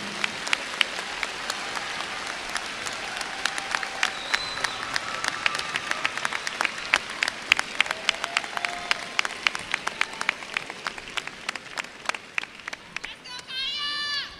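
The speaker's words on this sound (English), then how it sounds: "Can we have another rattler round of applause for your commencement speaker?" A commencement crowd at a university graduation applauds the speaker with sustained clapping and scattered louder claps and shouts, while a voice speaks over it. A whooping, trilling cheer rises near the end.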